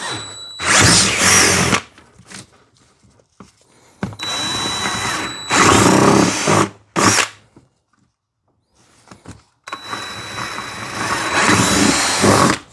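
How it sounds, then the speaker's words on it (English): A power drill with a 1/2 inch bit bores hose holes in an Old Town Ocean Kayak Malibu PDL hull: three loud, close bursts of high whine and grinding, each a second or two long, separated by quiet pauses with faint handling clicks. "now I'm going to end up using 1/2 inch on the drill bit, right on the same areas where I drilled the first hose"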